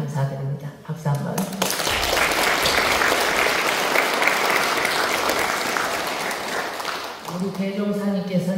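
A congregation at a Won Buddhist temple service breaks into warm, sustained applause for about five seconds. Someone speaks just before the clapping starts and again as it fades.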